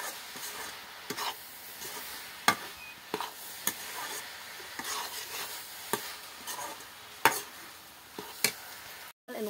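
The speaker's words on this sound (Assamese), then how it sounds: "নাৰিকলখিনি আৰু ভাজিব লাগিব" Coconut and sugar are fried and stirred in a pan, with repeated scraping strokes of a spatula and sharp clacks against the metal over a soft continuous sizzle, close and clear.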